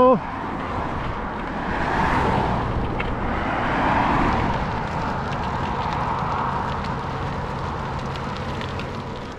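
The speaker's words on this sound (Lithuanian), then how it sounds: "Zuja mašinas vieną po kitos." Cars streaming past one after another on a road near a ferry landing on Saaremaa island, a steady, loud rush of passing traffic with overlapping whooshes lasting throughout.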